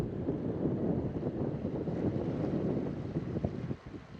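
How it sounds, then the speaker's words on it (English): Steady easterly wind of about 15 knots roars across the microphone while an old sailboat sails toward the bridge at Hawkesbury, a continuous close buffeting rush that dips near the end, with no talking. "Nice winds out of the east, blowing about 15 knots."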